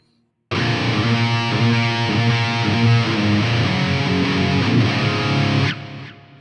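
Loud, tightly distorted prog-metal electric guitar riff through a Fractal AX8 Boogie patch with post EQ added, starting after a brief silence with driving palm-muted chugs and chords, then stopping sharply into a short fading tail.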